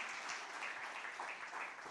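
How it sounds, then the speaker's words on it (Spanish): Sustained applause from a church congregation, a steady wash of many hands clapping at moderate distance for the full duration. "Dele otro aplauso al Señor."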